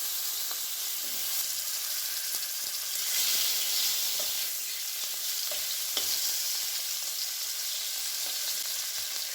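Hilsa fish sliding into hot oil sets off a loud, continuous frying sizzle close up, crackling and spitting steadily with a few small clicks, no speech.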